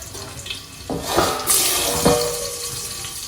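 A household water tap runs into a sink in a home kitchen, a steady close splashing stream with a couple of louder gushes, heard alone without talk.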